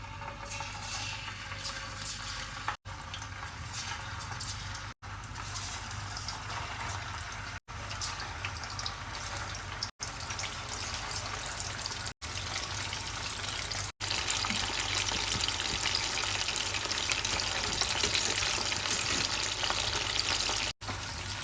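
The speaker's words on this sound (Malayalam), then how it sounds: "പാൻ നന്നായിട്ട് ചൂടാക്കി എണ്ണ ഒഴിച്ചിട്ടുണ്ട് ഇനി നമുക്ക് മാഗ്നേറ്റ് ചെയ്ത ഫിഷ് നമുക്ക് അതിനകത്തേക്ക് ഇട്ട് കൊടുക്കാം" Marinated anchovies frying in hot oil in a pan for Kerala-style fish pickle, a continuous loud sizzling hiss that swells louder partway through, broken by several abrupt cuts.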